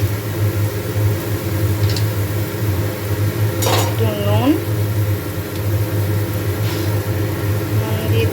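A spoon stirs oats with ground cumin and black pepper in a pan, giving occasional scraping clinks under a steady low hum while someone talks throughout.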